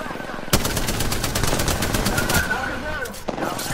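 Rapid automatic gunfire in the video game Apex Legends, loud and continuous through a ranked match, with a sharp burst at the start and a brief pause near the end.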